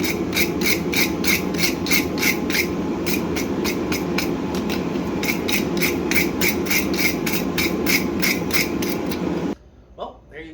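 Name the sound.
scraping scale off steel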